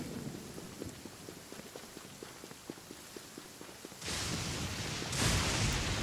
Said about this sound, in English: at the very least, it'll get you out of the rain